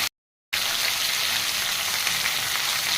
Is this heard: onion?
yes